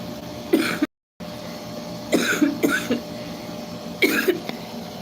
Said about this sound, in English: There's a reason why I'm coughing.